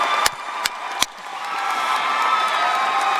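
At a 2018 business school undergraduate graduation ceremony, a few sharp claps ring out, then the audience swells into a broad, sustained wash of cheering and applause.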